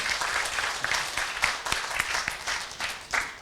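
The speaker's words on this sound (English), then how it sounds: "Give a round of applause." A crowd applauding steadily, a dense patter of many hands clapping at moderate volume for a few seconds.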